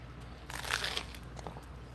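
A bite into a crunchy breakfast crunchwrap made on a Camp Chef griddle, a faint crisp crunch and crinkle lasting about half a second, close up over a low steady hum.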